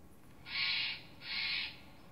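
British Columbia's provincial bird gives two harsh, raspy calls outdoors. The calls are evenly spaced, each lasting about half a second, and heard clearly at moderate volume over a quiet background.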